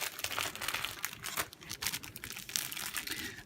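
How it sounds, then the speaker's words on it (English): Crinkly plastic bag wrapping a set of fabric squares is handled and opened, giving continuous close rustling and crackling with no talk. "They'll come to you wrapped like this in a plastic bag"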